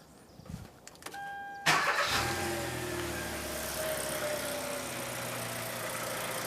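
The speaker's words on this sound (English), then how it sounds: "let's start the vehicle up again" A 2013 Kia Rio with a power steering fault and lost communication code cranks briefly, catches and settles into a steady idle heard up close, with a few clicks before the start.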